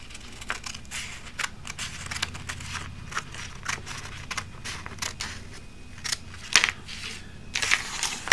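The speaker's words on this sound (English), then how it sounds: "cut along the dotted edge" Scissors snipping along the dotted edge of paper in a run of sharp, uneven clicks and crunches, close and fairly quiet, with no talking.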